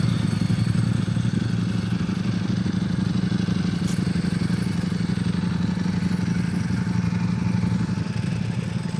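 Motorbike engines idle and rumble steadily at a moderate distance, a continuous low mechanical drone with some clatter, no talking.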